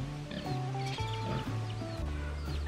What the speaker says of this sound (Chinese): 毛色发亮的公鸡